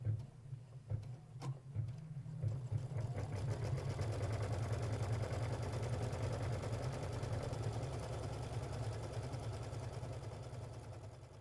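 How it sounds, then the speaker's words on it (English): An embroidery machine runs a squaring stitch on stabilizer in a hoop, a steady, fast mechanical whirr with rhythmic needle chatter that starts after a few clicks and continues faintly and evenly. "With your hoop locked into your machine and your design pulled up on screen, you can run the first step, which will be the squaring stitch"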